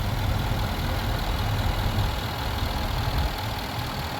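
A supercharged 5.0-litre Range Rover engine idles steadily, a dense, even rumble that is close and loud and runs unbroken throughout, with no voices.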